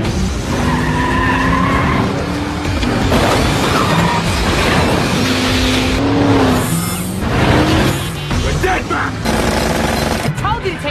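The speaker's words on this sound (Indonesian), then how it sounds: "tancap gas mengejar pembalap yang lain" Racing cars speed and skid in a weaponized chase, tires squealing in long wails over roaring engines and bursts of gunfire-like clatter, loud and dense throughout with a voice talking underneath.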